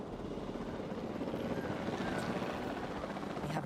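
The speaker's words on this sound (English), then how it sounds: "have a helicopter standing by, and they'll attempt to tranquilize the animal from the air." In the video game Jurassic World Evolution 2, a helicopter flies nearby. Its rotor gives a dense, continuous whirring roar that stays steady and fairly loud throughout, with no speech.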